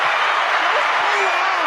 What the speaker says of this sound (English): Hit that applause button.